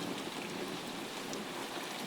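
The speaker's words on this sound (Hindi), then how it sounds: "अचानक से इतनी तेज बारिश और ओले कैसे पड़ गए?" Heavy rain pours down in a dense, unbroken hiss that ruins farmers' crops, a loud and constant wash with no pauses.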